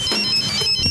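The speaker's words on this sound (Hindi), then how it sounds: "जरा भानु के नंबर पर फोन लगाओ" A phone rings with a bright electronic tone, a steady repeating ringtone heard close and loud on its own, with no talk over it.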